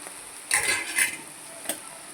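Cluster beans being stirred with spice powder in a frying pan, a spoon scraping in a few short bursts over a faint sizzle, close and fairly quiet.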